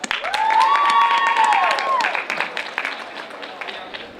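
Applause from a crowd, with dense clapping that carries on and slowly thins out, while a sustained whistle-like tone rises over the start.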